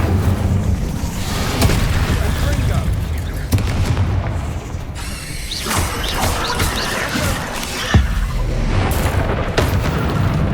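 Incendio fire spells cast in Hogwarts Legacy combat: loud booming bursts and crackling flame blasts with crashes, dense and continuous, alongside other battle effects.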